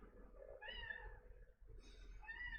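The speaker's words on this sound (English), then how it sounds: "Cat's getting crazy now, too." A domestic cat meows twice close by, two drawn-out, rising-and-falling cries separated by a short pause, quiet against a low room hum with no talking.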